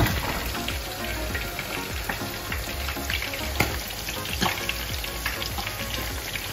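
Vegetables fry in a hot pan, a steady close sizzle with crackles and occasional sharp pops, broken by a few stirring scrapes.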